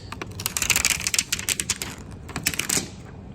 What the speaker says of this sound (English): you want to go and pull off the plastic